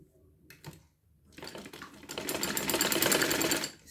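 After a few short taps, a sewing machine starts up and runs at rising speed in a close, loud, rapid mechanical whir while stitching the elastic waist of a dress.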